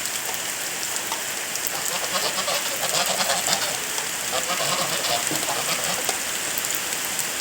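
Steady rain falls on a hard surface, a continuous dense patter with no break, close and moderately loud.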